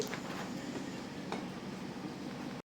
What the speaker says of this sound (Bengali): পেঁয়াজ কুচিগুলি দিয়ে তারপরে হালকা একটু নাড়তে থাকবো